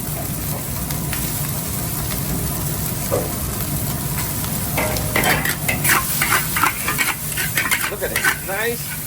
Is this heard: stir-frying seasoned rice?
yes